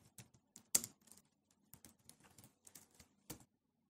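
Quiet, close tapping on a computer keyboard while code is typed, with irregular keystrokes and small bursts separated by short pauses.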